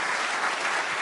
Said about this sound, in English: applauded by his wife